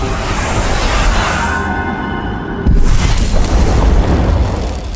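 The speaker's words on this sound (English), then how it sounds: "Another of your powers is the Spirit Blast." A Spirit Blast power from The Medium charges with a rising, airy hiss, then releases as a heavy, booming burst that rumbles on afterward.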